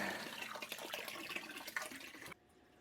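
Water pouring into a G40 brewing system as it fills to strike volume for a Czech premium lager, a steady rushing splash that stops abruptly near the end, faint and close.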